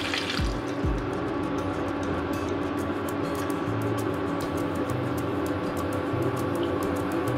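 Liquid poured into a rui fish curry with peas and onion greens, a steady splashing, gurgling stream that runs continuously at moderate loudness, with a couple of brief clunks at the start.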